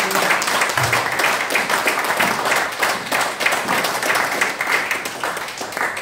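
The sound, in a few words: congregation applauding loudly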